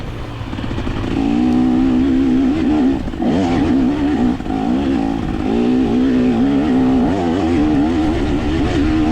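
A KTM 300 XC-W two-stroke dirt bike races a mountainous hare scramble in the Blue Ridge, its engine loud and close throughout, revving and pitching up and down steadily as the rider works the throttle.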